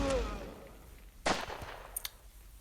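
Rifle shots in the mobile FPS game MaskGun, with one sharp crack midway followed by a few fainter pops and small impacts, heard after a brief bit of speech at the start.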